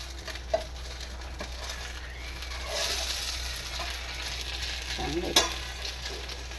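A dosa made from wheat flour and semolina fries on a hot pan with a steady, soft sizzle, a low constant hum beneath, and a couple of brief scraping taps as it is handled.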